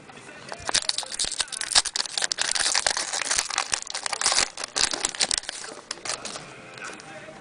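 A 2009 Topps Allen and Ginter baseball card pack is torn open with steady, loud crinkling and crackling of foil wrapper that lasts throughout, close up and with no talk.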